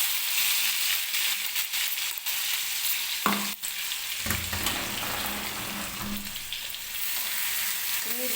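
Green chili sizzles steadily in hot oil while cooking, a dense crackling hiss that holds at a fairly loud level throughout, with a few brief clinks and stirring scrapes near the middle.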